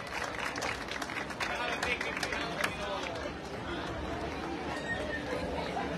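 A crowd at a neighbourhood campaign rally for a municipal candidate in Sahuayo, Mexico, claps in a steady, dense wash. Chatter and voices mix into the applause throughout.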